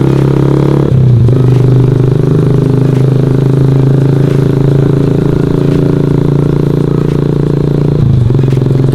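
Motorcycle ridden along a road toward a friend's house, a steady loud engine drone with a constant low hum and rattling clatter running throughout, briefly dipping near the start and end.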